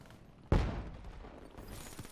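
A single sharp gunshot burst from the Weevil submachine gun in Call of Duty Black Ops 3 multiplayer, a loud crack that quickly decays into a faint rattling tail, with quiet background noise.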